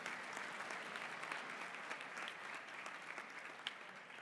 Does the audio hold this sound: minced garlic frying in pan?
no